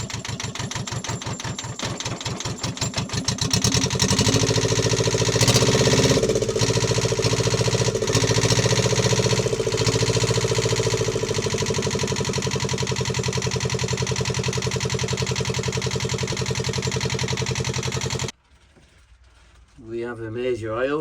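A catamaran's marine diesel engine runs with a steady mechanical clatter and hum, loud and continuous, with an oil leak from the head; the sound cuts out abruptly near the end, then resumes faintly.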